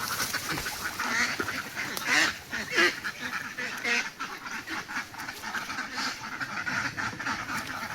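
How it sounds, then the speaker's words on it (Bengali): Ducks run across village ground while quacking and honking, a mix of repeated near and mid-distance calls over outdoor background noise, with occasional voices nearby. "এই হাঁসগুলো দৌড়াচ্ছে।"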